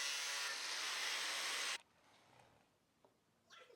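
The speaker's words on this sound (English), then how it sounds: "and then cut it using an angle grinder" An angle grinder cutting through a piece of scrap brass gives a loud, steady, hissing metal-cutting whine for almost two seconds, then stops abruptly, leaving faint handling noises and light clatter.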